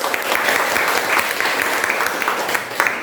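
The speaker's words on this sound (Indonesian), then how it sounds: "Oke, tepuk tangan dulu." A classroom full of people applauds steadily and loudly, the dense clapping continuing throughout.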